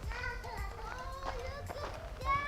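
A tired young girl cries on a family nature walk through a rocky valley, a close, sustained, wavering wail that rises and falls without pause for the whole stretch.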